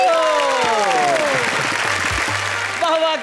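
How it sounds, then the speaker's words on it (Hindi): An audience at a Hindi poetry show claps in a sustained burst throughout, while a host speaks over the applause. "और तालियां हो तो ऐसी हो।"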